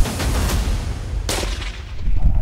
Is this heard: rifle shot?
yes